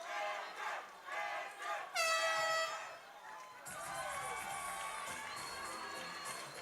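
An arena crowd at a mixed martial arts bout chants fighter Edgar Carballo's name in rhythmic, swelling shouts, loud and continuous, with cheering surging midway.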